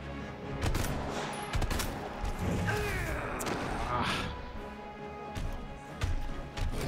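Gunfire in the survival-horror game Resident Evil 2, with several sharp shots scattered across the stretch over dense game noise and a steady background bed.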